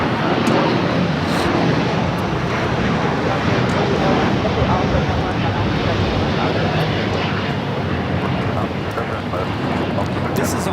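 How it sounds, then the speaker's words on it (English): An All Nippon Airways Boeing 787-9 Dreamliner takes off at Los Angeles LAX, a loud, continuous jet roar with wind buffeting the microphone while people talk over it. "This is All Nippon Airways Flight 5, taking off to Tokyo Narita on the 787-9 Dreamliner"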